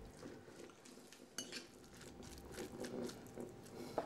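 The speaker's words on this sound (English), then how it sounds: "I'll just give that a gentle mix just to make sure I've got enough in there." Smoked eel salad stirred gently with mayonnaise in a bowl, giving soft wet squelches and light clinks of a utensil against the bowl, quiet and close with no talking.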